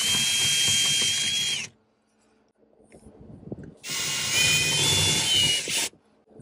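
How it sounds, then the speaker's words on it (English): A power drill whirs loudly while it bites into fasteners on the front door panel of a 2019-2022 Toyota RAV4, in two sustained bursts. A short gap of quiet handling and faint rattling falls between them. "as you start to drill these, they will start to spin as it starts to loosen up"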